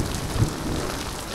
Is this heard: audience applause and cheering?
no